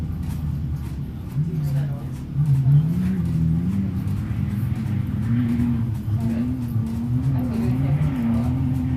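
Race car with a misfiring engine during qualifying at the High Desert 100 in Powell, Wyoming, droning and wavering in pitch at moderate distance, with uneven revving under steady background noise and voices talking.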